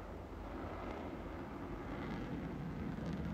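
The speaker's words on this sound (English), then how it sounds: "Just an incredible fighter jet." Distant roar of an F-35 Lightning fighter jet flying a display at the Paris Airshow, a steady broad rumble with wind buffeting the microphone throughout, no voices.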